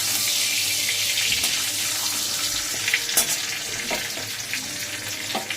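Bay leaves are tempered in hot oil for a fish cumin curry, giving a steady, hissing sizzle. A few clicks and scrapes of stirring surface over the continuous frying noise, and no one talks.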